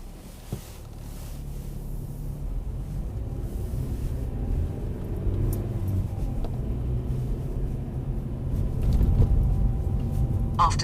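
A car on a driving test in Northampton pulls away, its engine rumbling low and steady from inside the cabin and building slightly as it gathers speed, with no one talking.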